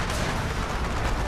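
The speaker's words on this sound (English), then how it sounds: "The steam cannon should open up." Steam cannons firing in the strategy game Rise of Nations: a dense, continuous roar of booming artillery-like blasts, loud and unbroken throughout with no talk.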